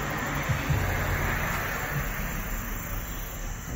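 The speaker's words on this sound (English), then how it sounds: "I'm guessing you can hear some of the cars going by." Steady, wash-like traffic noise from cars passing on busy Lafayette Boulevard, a continuous, even roar with no single vehicle standing out, heard outdoors on a humid day.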